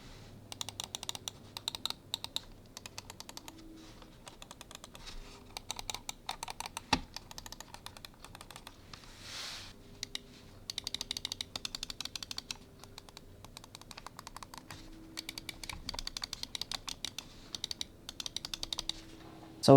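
Rapid, quiet clicking from a Razer Viper V3 Pro and a Corsair Sabre V2 gaming mouse, with bursts of fast repeated clicks separated by short pauses and heard up close with no talking.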